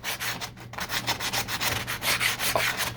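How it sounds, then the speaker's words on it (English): Sandpaper rubbed by hand up and down the door gap of a 1969 Corvette C3 passenger door, a steady run of close, scratchy strokes with a low hum underneath. "So I'll take some more of my other sandpaper,"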